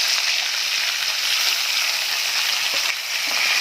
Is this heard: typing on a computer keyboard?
no